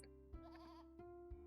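A goat named Feta bleats once in the Harvest Moon farming game, a short wavering call heard faintly over steady game music.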